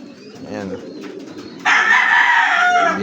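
Gamefarm chickens at a farmyard, with soft low clucking and cooing at first, then a loud, drawn-out rooster crow close by.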